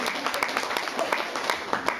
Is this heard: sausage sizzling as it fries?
no